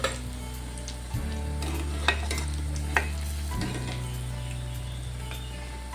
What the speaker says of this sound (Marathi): बघा आपला हा वडा मस्त आपण फ्राय करूया.